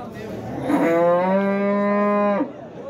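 A single long, loud moo from a Karpat ox at a Friday livestock market in Qubodiyon, held for close to two seconds and recorded close up against faint market background noise.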